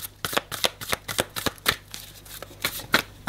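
Tarot cards being shuffled and drawn during a card reading: a quick series of close, crisp riffling slaps and flicks, with irregular rhythm and short gaps between them.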